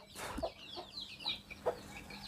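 Chickens cluck in a large coop on a farm at evening feeding time, scattered short calls rising and falling at moderate distance with no talk.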